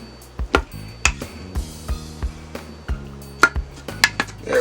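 Utensil repeatedly knocking and scraping in a metal pressure cooker pot on sear mode, breaking apart softening chicken for a creamy chicken and wild rice soup; a series of close, sharp clinks and taps over a low steady hum.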